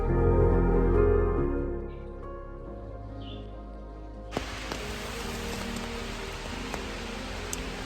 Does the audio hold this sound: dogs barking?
no